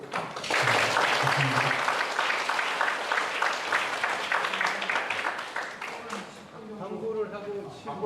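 Audience applause at a Korean youth and university student retreat lecture, dense sustained clapping that fills the room and fades toward the end as voices start to come through.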